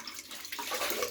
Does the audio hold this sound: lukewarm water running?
yes